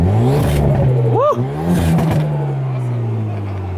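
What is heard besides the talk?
Bisimoto Hyundai hot hatch engine revving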